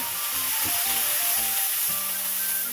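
Water poured into a hot pan of frying onion and ginger paste, setting off a loud, steady sizzling hiss that stays close and continuous throughout, with no voices.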